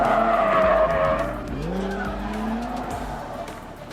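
A drift car at a National Drift Series event slides with a long, loud tire squeal whose pitch bends downward, engine roaring underneath, close and continuous for several seconds.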